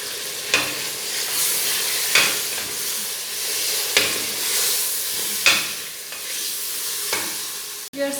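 Red chili, salt, crushed coriander, cumin powder and turmeric sizzle with meat for shaljam gosht, a steady close frying hiss broken by sharp scraping stirs roughly every one to one and a half seconds, with no talking.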